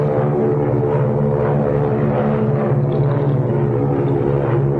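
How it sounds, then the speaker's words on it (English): Propeller search planes landing give a steady, loud droning engine roar with a strong low hum that continues without a break and has no voices over it. "3 of searching planes just landed."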